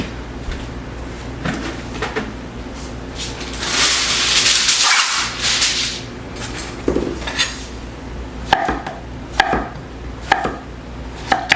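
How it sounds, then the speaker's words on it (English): A knife chopping zucchini on a cutting board in a home kitchen, irregular thick-slice knocks with clatter of pots and utensils, including a loud scraping burst midway, no talking. "I'm gonna go ahead and cut up a zucchini"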